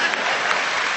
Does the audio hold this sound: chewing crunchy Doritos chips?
no